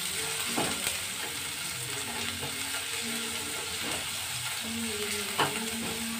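Ginger and green chili frying in a pan for dal makhani, a steady sizzle with a few stirring scrapes and clinks, heard close with no talking.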